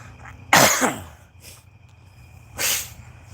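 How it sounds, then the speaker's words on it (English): Two sharp coughs, a harsh hacking burst followed by a second one a couple of seconds later, close up with a quiet background hum. "I start to coughing and hacking"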